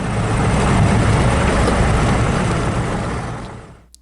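A small airplane on a solo cross-country flight comes in to land on a runway, giving a loud, steady engine and wind roar that fades away over the last half-second, with no talk.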